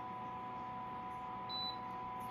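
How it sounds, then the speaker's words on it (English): A steady high electronic tone hums throughout, with a brief thin error beep from a switched-off Quark Quook appliance partway through and a faint click at the end. "it beeps that there's an error because the thing's off"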